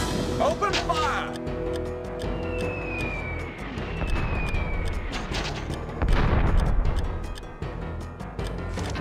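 Troops open fire in the battle game Dark Omen, with scattered booms and gunshot cracks, a whistling projectile sweep and a heavier blast later on, mixed with a voice speaking over the fighting.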